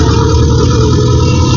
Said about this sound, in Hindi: रेस करो जी ट्रैक्टर दी